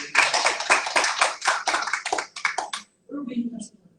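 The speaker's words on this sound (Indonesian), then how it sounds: "Berikan tepuk tangan." Church congregation clapping hands in a fast, irregular burst of close claps that stops abruptly, followed by a short voice speaking.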